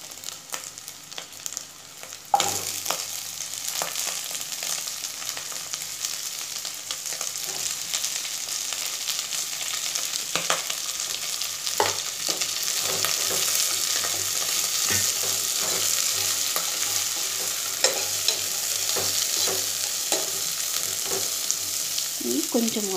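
Onion pieces are added to prawns already frying in a pan and hiss loudly up close. Stirring clatters on and off over the steady sizzle for the whole stretch.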